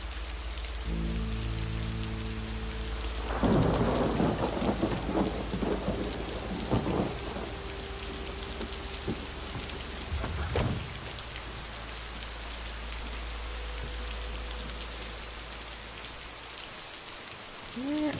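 Steady heavy rain pours down through a thunderstorm by a lake, with a couple of rolling thunder rumbles building near the start and another sharp crack about midway, the downpour continuing evenly throughout.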